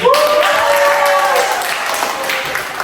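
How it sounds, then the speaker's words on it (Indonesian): Audience applause at an education talk event in Indonesia, a dense wash of clapping that fades gradually, with a voice trailing over the start. "Tepuk tangan dulu untuk ninggalnya."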